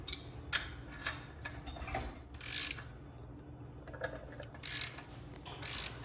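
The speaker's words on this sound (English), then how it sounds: "as I tighten this bearing press, it's going to press that upper cup down into the head tube of the bike." Wrenches tighten a bearing press that drives the upper headset cup into the head tube of a Huffy Scout 26-inch mountain bike, giving a series of close, uneven mechanical clicks and grinding ratchet bursts with no talking.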